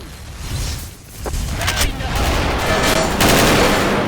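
Automatic gunfire in the online shooter XSHOT Online, a dense rattling burst of shots and clatter building toward the end, loud and close, with a commentator's voice faintly mixed in.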